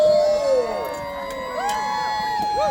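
Crowd cheering and whooping for Arundel during a mock battle at an Easter medieval festival at Arundel Castle, a steady close roar of voices with rising calls and shouts layered through.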